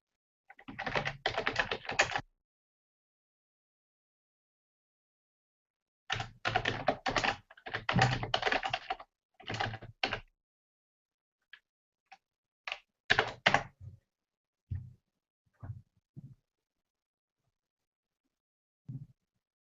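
Fingers type on a computer keyboard in quick bursts of clicking keystrokes, separated by pauses and ending in a few scattered taps, close and fairly quiet with no voices.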